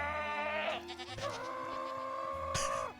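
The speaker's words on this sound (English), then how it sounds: "Let's turn those up in case we can hear the goats." Goats bleat in Minecraft, drawn-out wavering cries in a close, loud sequence, with one long bleat followed by a short, sharper call near the end; no one speaks.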